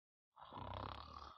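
A voice imitates a hedgehog snoring in a children's storytelling of The Little Red Hen, a single drawn-out, rumbling snore that starts after a short silence and holds steady and loud, with no other talk.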